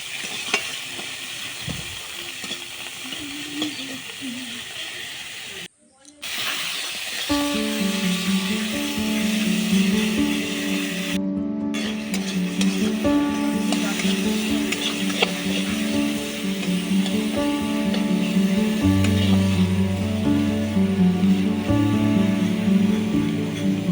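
Chopped onions with a little salt frying and being stirred in a pan over a wood-fired clay stove, a steady close sizzle that drops out briefly near the start, then continues loud and even with occasional scraping.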